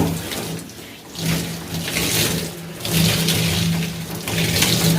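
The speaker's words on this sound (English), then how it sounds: "And at this stage I'm using warm water" Warm tap water runs steadily while natural hair is rinsed during an aloe vera hair treatment, a broad continuous splashing hiss that swells and dips as the hair moves under the stream, with no talking.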